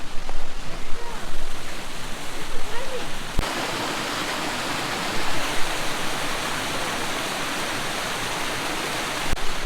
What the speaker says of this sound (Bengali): ওই ওপর থেকে জলটা বয়ে আসছে।